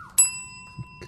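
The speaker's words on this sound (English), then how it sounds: "you get the proverbial and very prestigious bell" A single bright bell ding rings out on a morning livestream, striking sharply and then ringing on as a clear sustained tone, with a soft knock or two afterward and no talking.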